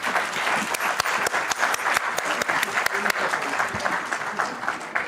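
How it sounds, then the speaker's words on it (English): A session audience at a conference on drafting enforceable international arbitration awards gives a big round of applause, dense continuous clapping with individual sharp claps, steady throughout. "Ladies and gentlemen, may I please have a huge round of applause."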